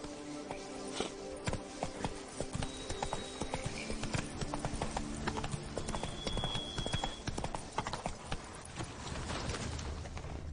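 Roach, a horse in The Witcher video game, gallops with steady, rapid clip-clop hooves throughout, mixed with faint ambient game sounds and occasional birdsong, at moderate level with no speech.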